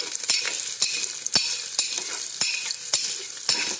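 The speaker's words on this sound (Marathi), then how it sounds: "आता हे कांदे चांगले भाजायचे" Onions frying in a pan with a bright, steady sizzle. Regular clinks and scrapes of a spatula stirring against the metal sound close by.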